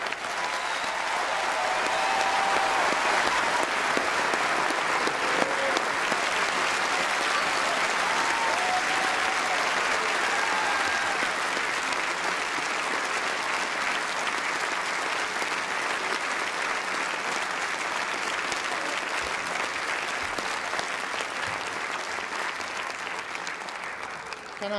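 A large audience applauds new graduates at a graduation ceremony, the dense clapping swelling in over the first seconds and then holding strong and sustained, with faint crowd murmur beneath.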